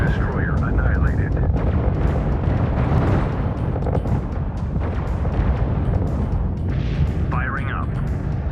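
Battleship weapons fire and explosions in the space game Infinite Lagrange, a dense continuous roar of blasts and rumbling, with brief synthetic warbling tones on top.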